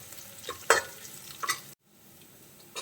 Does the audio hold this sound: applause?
no